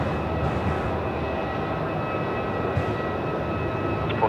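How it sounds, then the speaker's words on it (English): A Singapore Airlines Boeing 777 jet at Melbourne Airport, heard as a steady broad engine roar with a faint high whine, moderately loud and continuous, with no talking. "There we go, 777 time."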